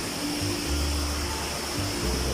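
Water pours steadily over the tiered Pa Wai waterfall in Thailand, known for its red-tinted water, producing a continuous broad rushing wash with a faint low hum beneath it.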